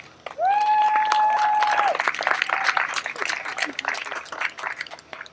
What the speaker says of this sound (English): Applaud yourselves, come on.